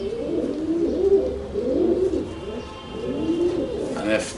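Pigeons coo steadily in a loft, producing repeated low, throaty rolling calls close by, with faint background noise and a brief higher sound near the end.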